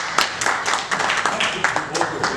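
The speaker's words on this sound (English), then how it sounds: "Let's clap for you." A small lecture audience at a medical talk claps in short, uneven bursts of individual hand claps, close and fairly loud, with a voice speaking over them.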